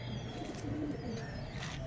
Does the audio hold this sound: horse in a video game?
no